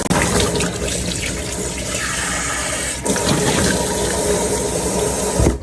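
Steady broadband rush of running tap water while washing a face, close and continuous, with a brief break partway through before the flow resumes.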